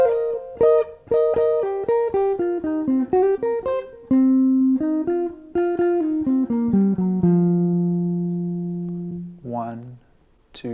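Clean electric guitar plays a jazz lick slowly, a run of distinct plucked single notes descending into longer sustained low tones, alone and close.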